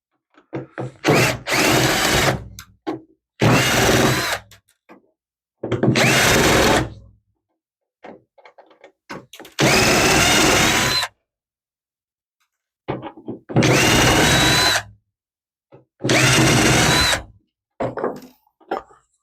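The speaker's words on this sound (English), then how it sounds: "Let's open this up for fun. Take a couple of screws out of here." Screws are driven out of a Dell Vostro 460 desktop power supply with a power drill, six loud bursts of whirring a second or so each, separated by quiet pauses and faint handling clicks.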